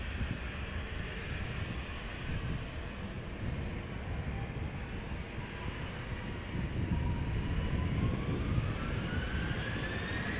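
A KLM airliner departs Amsterdam Schiphol Airport with a broad, steady jet engine roar that builds slightly over about ten seconds, heard from fairly close.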